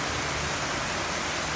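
Water from the light-and-music fountain in Tsaritsyno Park, Moscow, a large 52-metre bowl, rushes in a dense, steady hiss like a waterfall, constant and close with no other sounds.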